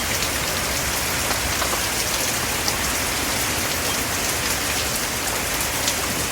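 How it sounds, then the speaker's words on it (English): Steady rain falls outdoors among trees as the wind picks up, a dense, continuous wash of pattering drops at an even level throughout, with no voices. "wind and rain now."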